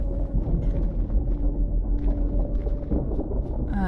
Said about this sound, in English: This is a temporal storm,